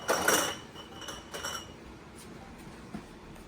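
Glass pint canning jars are lifted from a 250-degree oven after sterilizing, clinking against each other and the rack in a brief cluster of bright chinks near the start, then a few fainter taps and a quiet clink near the end.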